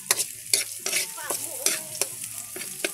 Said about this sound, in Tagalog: first time natin magluto ng susong bukiki